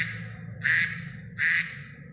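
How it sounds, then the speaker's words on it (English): A duck quacks twice, two loud, nasal calls about a second apart over a low background murmur. "Duck says quack quack."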